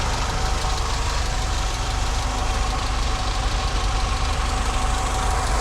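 Mercedes-Benz W123 230E petrol engine idling steadily after a fuel distributor repair, a continuous close, even mechanical rumble with a faint knocking edge and no talk.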